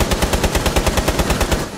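Rapid automatic gunfire in the video game Rainbow Six Siege, a loud unbroken burst of closely spaced shots with no talk over it.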